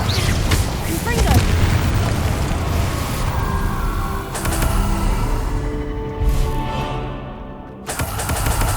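A Confringo spell explosion in Hogwarts Legacy lands as a loud, booming blast that rolls into a long rumbling tail. Other game sounds surge around it, and a second burst hits near the end.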